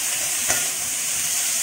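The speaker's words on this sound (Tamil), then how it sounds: "நல்லா வெங்காயம் நல்லா வதக்கட்டும்" Onions sautéing in a pan give a steady, close sizzle with a faint stirring scrape partway through, continuous and even with nobody talking.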